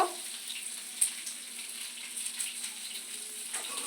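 Ground cumin fries in a pan while being stirred, a faint, steady sizzle with light scrapes and small clicks of a spoon, quiet and close.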